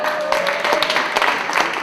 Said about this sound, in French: On applaudit la poète.